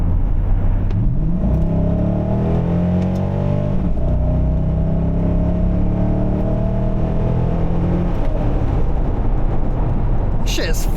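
A 1999 C5 Corvette accelerates hard from inside the cabin, its engine note climbing steadily through gears with brief dips at shifts, loud and continuous with a voice talking faintly beneath.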